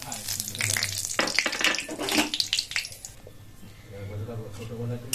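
Cinnamon, cardamom, bay leaf and dried chili crackle in hot oil for Bengali chicken kosha. Loud bursts of sizzling come first, then a voice talks over a fainter, steady fry.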